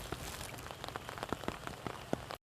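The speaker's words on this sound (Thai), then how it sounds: "โอ้ฝนตกบรรยากาศหนานอนเว้นด้ครับพี่น้องเด้อ" Rain falls steadily outdoors on a wet day with flooding nearby, a constant soft hiss dotted with distinct close raindrop taps and pattering, with no voices.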